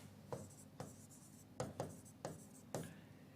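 Chalk or marker strokes on a classroom board during a lesson, six short scratchy bursts in an uneven rhythm, close and fairly quiet, with no voices over them.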